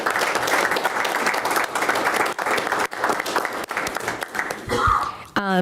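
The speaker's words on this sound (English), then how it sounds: "If the commission could please give these folks a round of applause for coming in." Audience applause at a regular city commission meeting in Yankton, steady and fairly loud clapping from a roomful of people that carries on for several seconds before fading, with a brief voice near the end.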